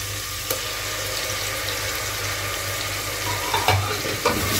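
Onions and ginger garlic paste frying in a pan for Lahori chana, a steady close sizzle with occasional clinks and stirring scrapes, with no talk.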